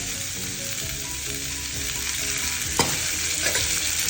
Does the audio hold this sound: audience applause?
no